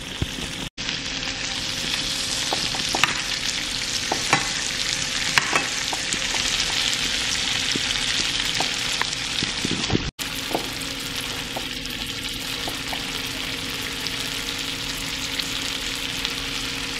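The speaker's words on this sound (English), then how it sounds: "As you can see, it's sizzling itself." Salmon fillet frying in butter in a pan, a loud, dense, steady sizzle close up with occasional light pops and clinks, briefly cut twice, without speech.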